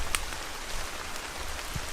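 Heavy rain pours down outdoors on a rough track near a pine forest, a dense, continuous hiss of drops close by with no voices.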